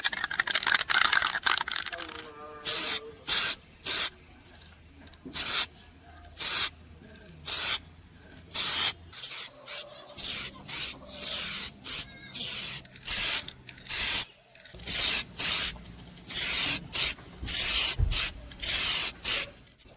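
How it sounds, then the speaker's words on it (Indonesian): Short repeated hisses of a spray can painting a motorcycle wheel rim grey, bursts of about half a second in a steady stop-start rhythm, close and fairly loud. "jadi kita semprot tipis-tipis dulu di bagian sini yang sudah kita amplas"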